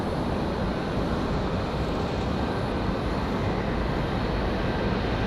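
UPS Airbus A300 jet departing Raleigh-Durham International toward Louisville, a steady, broad engine roar that holds evenly loud for the whole stretch with no voices.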